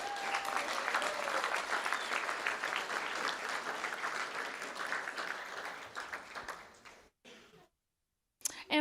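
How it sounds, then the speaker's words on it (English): Sustained round of applause from the audience at a school district board of trustees meeting, a dense, steady wash of clapping that fades and thins out before cutting to near silence, with a brief sound returning at the end. "Let's give them a last round of applause."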